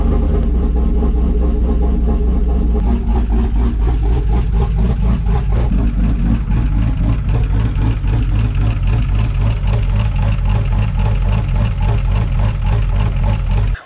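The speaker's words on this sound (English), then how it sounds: "Truck's running." A 2006 Tacoma truck engine idles steadily after a Comp Cams MK54-700-11 camshaft install, a loud close rumble with an even pulsing beat and no talk.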